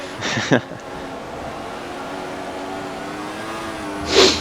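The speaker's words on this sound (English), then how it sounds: "The engine is so loud, that's all I can hear when I have my headset on." A high-pitched 2014 F1 race car engine in the video game F1 2014 drones steadily throughout at the Austria race, its tone shifting slightly, with short bursts of noise near the start and end.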